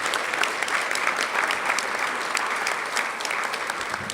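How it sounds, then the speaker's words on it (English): Audience at a women's history celebration applauding award recipients, a steady, fairly loud round of clapping with a faint crowd murmur beneath. "A round of applause for them as well."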